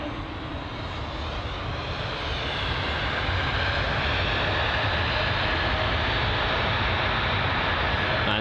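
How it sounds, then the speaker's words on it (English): A Swiss Airbus A220-300 jet, just in from Geneva, roars loud and close at London Heathrow, its broad steady engine noise swelling slightly then holding constant with no talk. "the Swiss A220-300, which had just arrived from Geneva"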